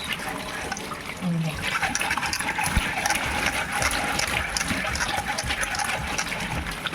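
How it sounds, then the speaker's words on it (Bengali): Amodi fish are washed by hand in water, a continuous close splashing and sloshing that starts after a brief quieter opening, with a voice at times. "এবার আমি আমাদি মাছগুলো ধুয়ে নেব"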